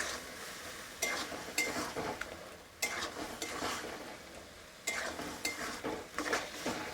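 Spices with turmeric and sugar sautéed in a pan, a steady soft sizzle broken by repeated scraping strokes of a spatula, close and moderately loud with no talk.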